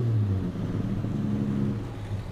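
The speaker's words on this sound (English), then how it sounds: "It's a 250 crossflow engine in it, pretty popular engine." Ford 250 crossflow straight-six engine in an XF race car, a loud, steady low rumble of the big six idling and revving close by, with no talk.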